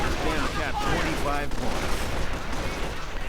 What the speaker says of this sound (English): More artillery from Vlad trying to stop these riflemen, getting a few in the process